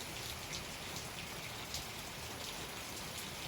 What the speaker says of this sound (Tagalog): ngayon naman ang ulan.